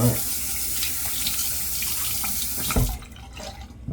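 A bathroom tap runs in a steady, close, full rush of water for rinsing after a shave, then shuts off abruptly near the end, leaving quieter trickles.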